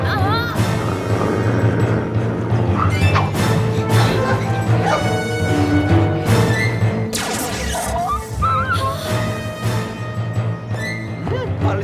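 Cartoon dog Sultan barks and yips in repeated bursts among crashes and thwacks, with a voice calling out over the din.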